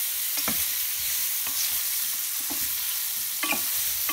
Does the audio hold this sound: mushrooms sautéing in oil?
yes